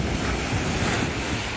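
Ocean surf crashes on a Florida beach, a loud, constant roar of breaking waves mixed with wind buffeting the microphone, with no voices.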